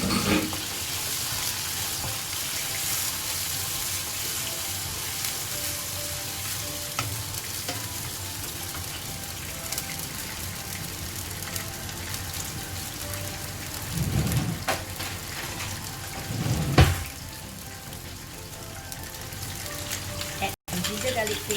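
Chopped onion sizzles and crackles steadily in hot oil in a pan while chicken biryani is cooked, a dense continuous frying hiss with a couple of louder bursts near the end.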